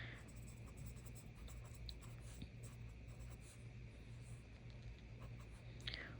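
Pencil scratching on paper while physics exam givens are written down, a steady soft scribbling texture over low background hum, with no talking.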